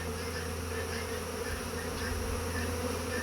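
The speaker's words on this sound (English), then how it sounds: "Bees are bringing pollen" Honey bees buzz at a hive entrance as they bring in pollen on a mild, sunny day, a dense, continuous drone from many bees close to the microphone.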